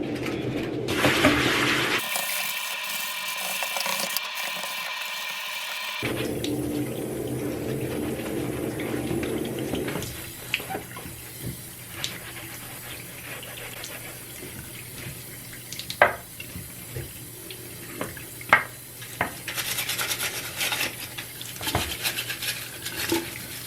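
Tap water runs steadily into a bathroom sink during a cleaning rinse, a continuous rushing stream with occasional clunks and splashes of items being rinsed, no voices.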